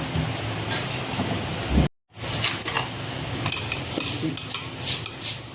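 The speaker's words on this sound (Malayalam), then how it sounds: "അപ്പോൾ എല്ലാം കൂടി ഞാൻ മിക്സാക്കി വയ്ക്കുന്നു." A spoon clinks and scrapes around a bowl while rice batter is mixed with salt and sugar for vattayappam, brisk repeated strokes broken by a brief silent gap partway through.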